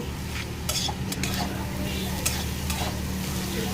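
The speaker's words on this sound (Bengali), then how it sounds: "জিরে গুঁড়োটা দিয়ে মিক্স করে নামিয়ে নেব" Vegetable bhuji being stirred in a pan with roasted cumin powder, with a close crackling sizzle and a few sharp metallic scrapes and clinks of a utensil against the pan, no talking.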